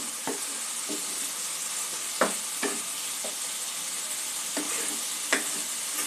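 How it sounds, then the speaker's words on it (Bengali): Sponge gourd fries with spices in a pan under a soft, constant sizzle, while a spatula scrapes and taps the pan several times at irregular intervals, close and fairly quiet, with no speech. "দু 1 মিনিট একটু মশলা দিয়ে নাড়াচাড়া করে নেব।"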